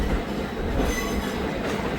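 The Wodeyar Express pulls out of the platform at Mysore, a loud close rumble of rolling railcars with wheel noise and a faint squeal.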